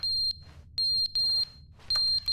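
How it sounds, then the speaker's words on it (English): Smoke alarm in The Stanley Parable video game beeping in sharp, shrill bursts, four loud chirps separated by short gaps, with no talking. "Oh. No, not the smoke alarm."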